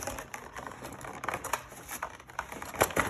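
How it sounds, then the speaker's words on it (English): Close, irregular crinkling and tearing of packaging as the cardboard keyboard box of a 1997 Apple 20th Anniversary Macintosh is opened, with scattered rustles and sharper rips. "I'm going to open up box number 4, which is the keyboard."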